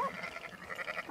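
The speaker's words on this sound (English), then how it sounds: "Just study those sheep" A sheep in the open-world western video game Red Dead Redemption 2 gives a short, wavering bleat, fairly close and clear, lasting about a second.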